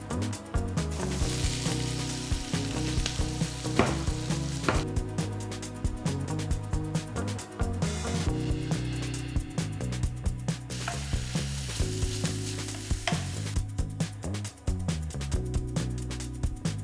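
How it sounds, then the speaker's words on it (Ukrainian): Diced pork fat sizzling and crackling loudly in a hot pan with onion and carrot, a dense continuous frying hiss with occasional stirring scrapes. "нарізаю кубиком і також обсмажую разом з цибулею та моркою"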